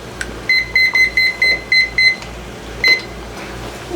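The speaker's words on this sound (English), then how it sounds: "Got my egg timer on since they just started boiling." Kitchen egg timer set while eggs boil, giving a run of eight short, evenly spaced electronic beeps, then a pause and one final beep, loud and close over a low hum.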